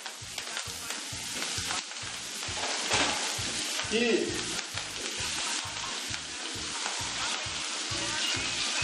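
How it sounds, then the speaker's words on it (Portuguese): Garlic and chopped parsley fry in a pan with a loud, continuous sizzle and crackle, close up, while a person speaks briefly over it. "Ela vai começar a fritar."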